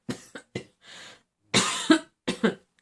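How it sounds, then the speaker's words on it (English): Someone coughs repeatedly at close range, a series of harsh, wet coughs of varying length with short gaps between them. "We're all coming down with horrible coughs and things."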